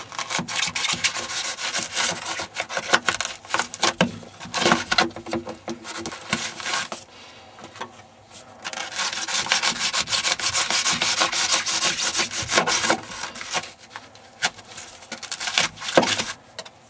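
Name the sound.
cutting away foam near a chimney flue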